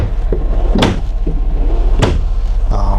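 Drawers in a 2019 Newmar Ventana 4369 RV sliding and knocking shut, three distinct thuds and clacks at close range over a steady background hum.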